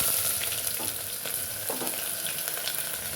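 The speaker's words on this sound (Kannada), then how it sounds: "ಸ್ವಲ್ಪ ಚೆನ್ನಾಗಿ ಫ್ರೈ ಮಾಡ್ಕೊಳ್ಳೋಣ ಸ್ವಲ್ಪ ಕಲರ್ ಬರಬೇಕು" Onions and cashews fry in ghee in a pan for green chicken biryani, giving a steady close sizzle and crackle with occasional stirring scrapes and no talk.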